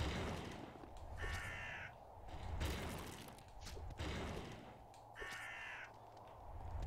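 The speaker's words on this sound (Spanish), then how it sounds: "Un montón de cuervos." Two loud bursts of crow cawing in the video game Unepic, one near the start and one around the five-second mark, set over a steady low rumbling game ambience with scattered thuds.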